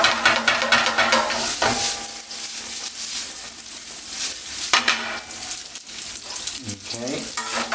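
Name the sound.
stirring carbonara in a pan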